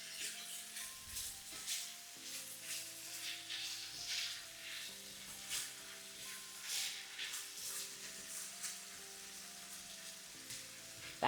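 Enchilada filling of smoked turkey frying in a pan on high heat, a steady faint sizzle and crackle with occasional stirring scrapes, under a quiet background hum.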